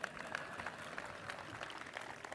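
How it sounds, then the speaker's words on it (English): A crowd at the groundbreaking of the United States Olympic Museum applauds outdoors, a soft, steady spatter of clapping that sounds moderately distant. "I want applause for that."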